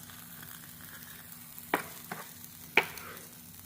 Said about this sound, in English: Now we're going in with some sesame oil and the fresh green tops of the scallion.